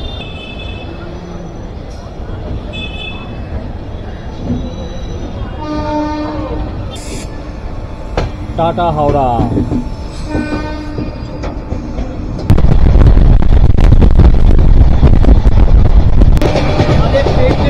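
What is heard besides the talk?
Tamralipta Express train departing and running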